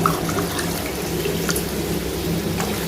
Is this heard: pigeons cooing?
no